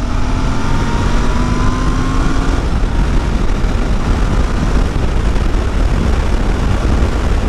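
A Royal Enfield Bear 650 twin-cylinder motorcycle pulls from low revs with a steady, loud engine drone under heavy wind rush, heard continuously from the rider's position without speech.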